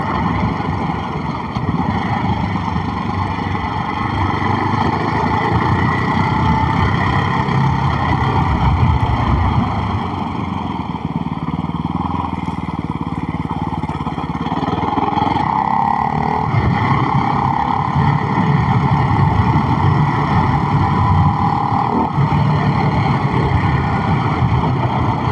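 Ducati Hypermotard 698 Mono single-cylinder motorcycle ridden on winding upland roads, its engine droning steadily and loudly close to the microphone, mixed with heavy wind rush throughout.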